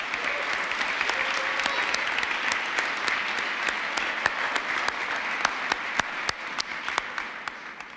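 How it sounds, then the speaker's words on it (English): At a December 2024 university commencement, a large audience applauds graduate students with steady, dense clapping throughout, some individual sharp claps standing out near the end. "One more round of applause, please."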